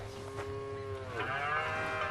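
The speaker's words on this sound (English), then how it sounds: "Here's the cows." Cattle in the game Ranch Simulator give a short, clear moo that bends in pitch partway through, close and alone over faint background ambience.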